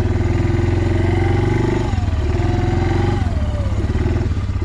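A four-wheeler ATV engine runs steadily up close with a low, throbbing idle, rising briefly into a couple of moderate revs and settling back, with some mechanical clatter throughout.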